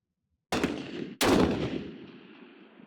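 Two loud rifle shots ring out at an outdoor shooting range, close and sharp, less than a second apart, each followed by a long echoing decay.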